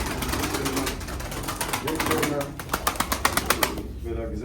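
Pigeons are heard close by, with a rapid burst of wing flaps and soft cooing under steady ambient noise and possible voices.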